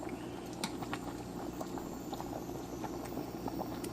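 A pot of water boiling with bucatini pasta, giving a steady bubbling and hissing roar with faint pops and ticks throughout, close and continuous.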